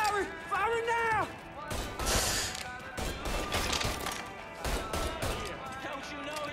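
Gunfire bursts in the Mafia 3 video game, several loud cracking volleys spread through the stretch, mixed with shouting voices and game music.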